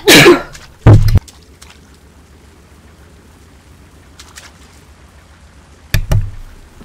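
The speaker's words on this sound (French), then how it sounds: "Éternuer." A person sneezes hard during a Tomb Raider game session: a loud burst near the start, another short sharp burst a second later, then a final burst near the end, over a quiet, low game background.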